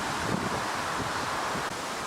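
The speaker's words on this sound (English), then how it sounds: "very windy now" Strong wind gusts on a riverside trek along Hadrian's Wall, producing a constant broad roar with rustling, fairly faint, and no voices.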